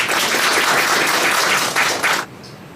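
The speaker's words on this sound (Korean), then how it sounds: "안민석 의원님 먼저 큰 박수로 맞아주시면 축사를 드리도록 하겠습니다" At a Seoul book concert, an audience greets a National Assembly member with loud, dense, sustained applause that cuts off abruptly a little after two seconds, leaving quiet room tone.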